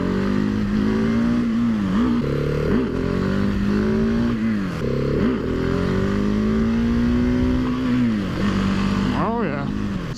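A Husqvarna 701 Supermoto motorcycle accelerates in second gear, its single-cylinder engine note rising in pitch with brief dips as the throttle shifts, loud and close with steady wind noise.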